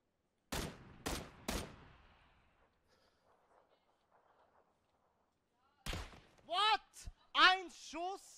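Gunfire in the video game PUBG: three sharp, loud shots in quick succession, then a quiet gap, then more close shots with a player's excited speech mixed in among them.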